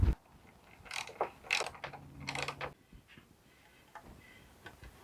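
Metal hand tools click and ratchet against boat hardware on a small wooden dinghy, with scattered bursts of turning and tightening, close and fairly loud, with short pauses between efforts.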